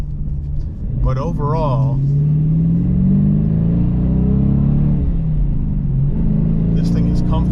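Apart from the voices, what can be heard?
Dodge Challenger R/T engine revving, manual gear shifting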